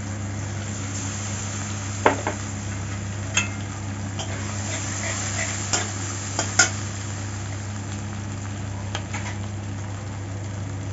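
Fish curry with mustard-poppy seed paste being stirred in a pan over a steady low hum, with soft scattered clinks and scrapes from the utensil and a faint sizzle, close and fairly quiet.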